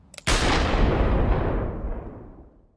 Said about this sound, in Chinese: 他这一枪打在了武道脚背上